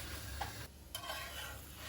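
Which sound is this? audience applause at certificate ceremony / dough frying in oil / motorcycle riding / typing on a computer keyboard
dough frying in oil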